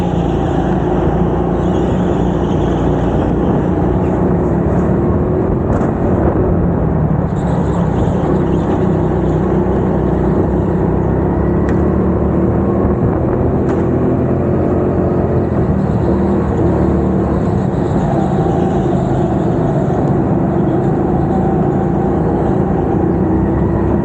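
Racing go-kart engines on the track at Teamsport Bristol during a race, a steady loud droning whir of motors running continuously throughout, close and unbroken.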